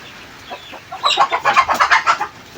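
Chickens fighting squawk and cluck in a rapid, agitated burst, growing louder halfway through with repeated sharp cries close by.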